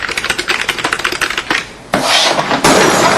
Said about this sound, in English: Because like the old typewriters, you had to go up and do that, right?